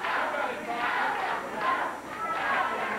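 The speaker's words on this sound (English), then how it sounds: "There's a crowd behind Dustin trying to get him into it." A wrestling arena crowd at a 1980s championship wrestling event rises and falls in waves of cheering and shouting, with a commentator's voice woven through the noise.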